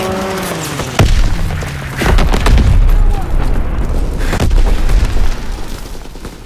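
A sudden deep boom from an enemy bomb strike in the Call of Duty WW2 Aachen map, followed by a second rolling blast and a long rumbling battle roar with scattered gunfire and faint voices.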